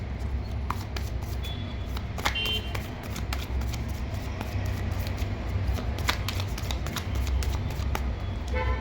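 Guidance cards shuffled by hand for a tarot reading, a steady close riffling and sliding of card stock with crisp flicks, continuous and unbroken over a low background hum.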